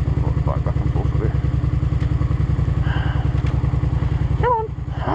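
Suzuki SV650 V-twin motorcycle engine idling unevenly close by, a loud lumpy pulsing beat that falters and cuts out near the end as it stalls, with a few faint knocks in the background.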